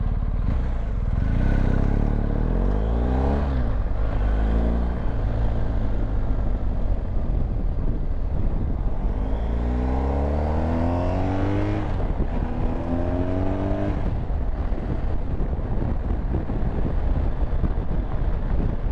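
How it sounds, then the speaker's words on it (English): Steady roaring wind buffets the microphone while riding a BMW GS motorcycle, its engine rising and falling through gear changes, loud and continuous throughout. "I can hear a lot of wind noise, and I can feel it on my face"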